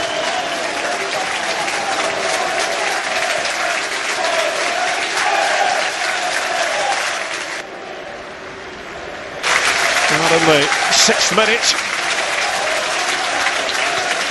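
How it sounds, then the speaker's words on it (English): St Mirren fans applauding inside the stadium during a football match against Rangers, a broad wash of crowd clapping sustained throughout, briefly dipping then swelling again, with a commentator talking over it. "Applause from the St Mirren fans for their club's number 6, Jim Goodwin."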